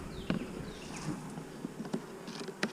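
Honey bees buzz at a hive entrance in a bee yard, a faint, steady hum with sharp passing buzzes as individual bees fly close by and away.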